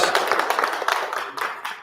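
Audience applause at the 44th annual COTTFN powwow for a summer student: dense, steady clapping from a crowd at mid distance, sustained at moderate loudness throughout with no voices over it.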